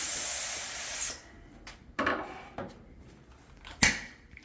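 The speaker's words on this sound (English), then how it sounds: "we're gonna start spraying for you guys." A finish is sprayed in a workshop spray booth: a loud, steady hiss of about a second that cuts off sharply, followed by a few scattered clicks and knocks.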